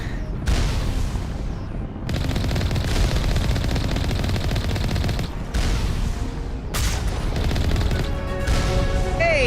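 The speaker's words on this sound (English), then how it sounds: "Might be able to do some stealth shooting from behind her" Sustained automatic gunfire in Mass Effect from stealth shooting behind an enemy, loud, close bursts broken by two brief pauses, ending with faint electronic tones.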